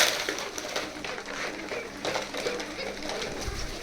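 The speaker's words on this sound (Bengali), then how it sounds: "এগুলো সবই অ্যারাবিয়ান কোকা কবুতর।" Arabian koka pigeons at a pigeon house coo softly while feeding, with steady rustling and pecking noise under the cooing throughout.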